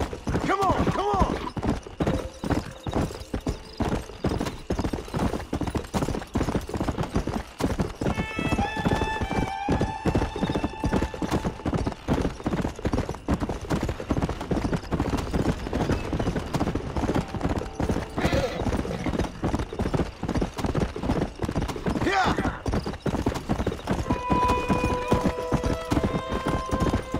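Horse hooves clip-clop steadily at a gallop through a Red Dead Redemption game scene, with a few whinnies and neighs breaking through, while someone talks over it for most of the stretch.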